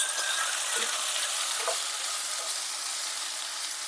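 Chopped tomatoes frying with golden onions in a pan, a steady broadband sizzle that holds evenly throughout with faint occasional stirring ticks, no voices.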